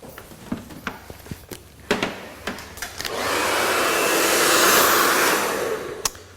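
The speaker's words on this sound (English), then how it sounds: "It's always important as well that you get a strong blow dryer that's got some good wattage." A powerful 3200-watt blow dryer switches on partway through and runs with a loud, steady whooshing roar while drying a bob haircut, preceded by scattered clicks and handling noises.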